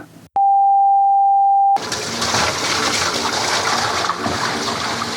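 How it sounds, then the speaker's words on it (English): A sharp steady tone sounds briefly, then a toilet flushes loudly nearby with a sustained rushing of water. "That's a toilet flushing."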